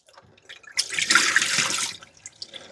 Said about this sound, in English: Let's empty out the dirty water tanks.